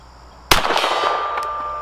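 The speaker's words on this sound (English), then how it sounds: "Start with the silver gong way over there on the left." A steel target gong at 50 yards is struck by a .22 pistol bullet. A sudden sharp crack gives way to a bright metallic clang that rings and fades over a second or more, with a faint second tap.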